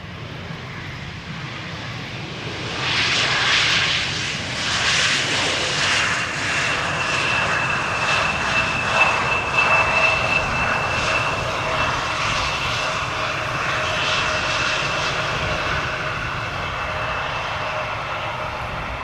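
An Embraer 175 jet lands on the Polderbaan runway at Amsterdam Schiphol on a hot, sunny day, its engine roar building from about three seconds into a steady, fairly loud rumble with a thin whining tone that lingers as it rolls past.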